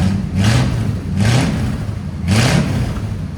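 A 1962 Buick LeSabre's 401 V8 with glass pack mufflers gives three loud, close revs in a row, each swelling and falling back to a throaty idle rumble.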